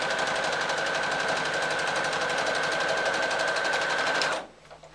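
A sewing machine stitches a straight row along piping on a tissue box cover, a fast steady mechanical whirring close by that stops abruptly near the end, with no talk.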